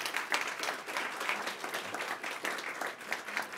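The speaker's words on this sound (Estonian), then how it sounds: "Aplaus!" Steady audience applause at an awards ceremony for the best theses and research at an open data forum, a continuous, moderately loud patter of many hands without talk.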